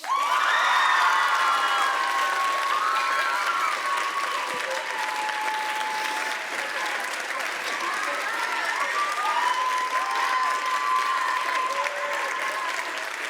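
A crowd at a public speaking competition final bursts into rapturous applause with scattered cheers and whoops, a loud, sustained wash of clapping lasting many seconds without letting up.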